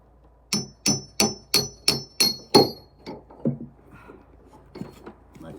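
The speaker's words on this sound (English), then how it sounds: "I'm going to give it a little tap because I got a little bit of wood there." Hammer tapping a bolt into a wooden viking sled: seven sharp, evenly spaced metallic taps close by, then softer scattered knocks and handling noises.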